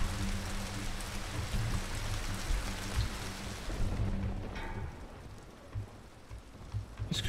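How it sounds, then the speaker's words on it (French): Steady rain in the video game Teslagrad, a dense continuous hiss with low rumbling underneath, easing slightly partway through, with no talking. "Ah, il pleut toujours."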